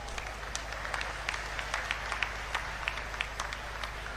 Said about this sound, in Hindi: एक बार जोरदार तालियां इनके लिए भी मार दीजिए।